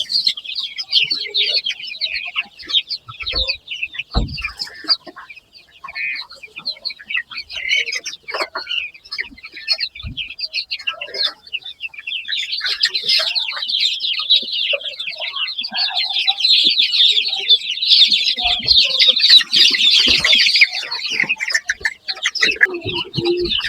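Many chickens clucking and peeping continuously, a dense, high-pitched chorus that swells louder toward the end.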